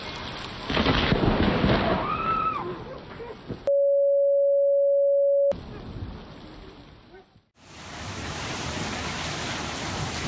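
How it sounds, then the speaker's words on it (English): A close lightning strike during steady rain brings a loud, sudden thunderclap over the hiss of rainfall, with a long rumbling wash of noise afterward; the sound cuts out briefly midway. "instead recorded a dramatic lightning strike"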